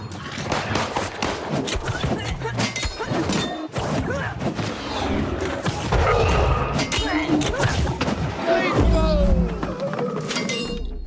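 Gunfire in the online game New World rings out as a rapid string of sharp shots and crashing impacts, overlapping with people talking throughout.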